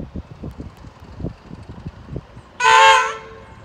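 An X20 diesel locomotive shunting at Drysdale Station: low, rumbling engine thuds give way to a loud, sustained horn blast near the end, heard close by.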